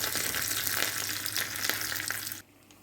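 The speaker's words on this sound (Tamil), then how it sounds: "இப்போ நம்ம தாளித்து எடுத்துகிட்டு வந்த தாளிப்பு குழம்புல சேர்த்துடலாம்" A hot tempering of mustard seeds, chopped chillies and curry leaves hits a ridge gourd and chana dal kootu with a loud, steady crackling sizzle that cuts off sharply near the end, leaving quiet.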